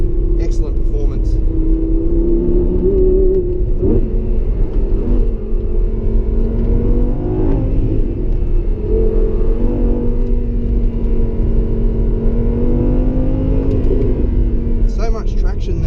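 A 2016 Lamborghini Huracan Spyder accelerating, its engine rising through loud, rumbling revs with shifting tones and a sustained throaty roar, heard from inside the car while a person talks over it.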